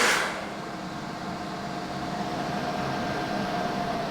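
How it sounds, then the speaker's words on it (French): A steady whoosh of air from a home battery's cooling fan, constant and moderately loud, with a faint mechanical hum underneath and no voices. "le ventilateur, ça fait un bruit d'air"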